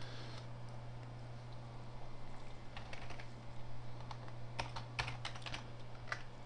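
A username is typed on a computer keyboard, with quiet, close key clicks arriving in irregular bursts that get denser toward the end, over a steady low hum and no talking.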